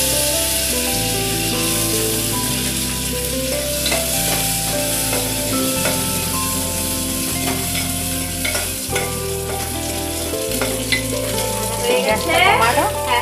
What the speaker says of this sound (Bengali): কাজু কিশমিশটা একটু ঘিতে ভেজে দেবো।